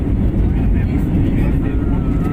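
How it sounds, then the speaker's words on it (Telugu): Steady loud low rumble of an airplane rolling along the runway, a continuous engine roar with voices murmuring underneath. "ఫ్లైట్ నడుస్తున్నది, నేల మీద నడుస్తుంది రన్వేలో"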